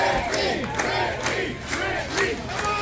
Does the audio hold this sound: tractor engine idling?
no